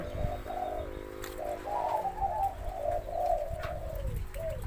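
A spotted dove coos in a steady run of soft, rounded notes, close and clear over low background hum, with no talking.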